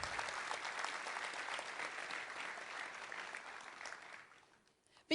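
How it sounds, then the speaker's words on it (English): An audience applauds after guests share their story at a customer loyalty marketing talk, a full round of clapping that fades out over about four seconds before a brief sound cuts in at the end. "Round of applause."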